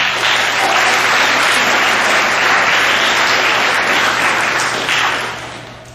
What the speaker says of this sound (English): So student body, please give them a round of applause